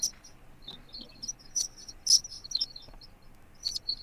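Short high-pitched bird whistles and chirps come in scattered bursts over a quiet background, fairly faint and irregular.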